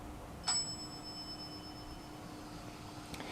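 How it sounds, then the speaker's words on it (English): A bell rings for arriving guests as a sharp single strike that leaves a clear, lingering ring, with a second faint tap near the end over quiet room tone. "The bell rang again."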